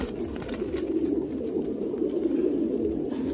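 Thai Titan pigeons in a breeding loft coo in a continuous low, throaty murmur, several birds overlapping close by with no talk.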